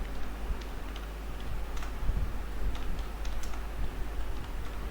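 Code is typed on a computer keyboard in light, fast, clicking bursts, close but fairly soft, over a low steady hum with no speech.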